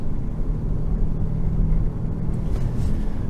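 A car driving along a road toward Pantai Kelanang in Selangor, a steady low engine and tire rumble heard from inside the cabin, continuous and fairly loud with no talking.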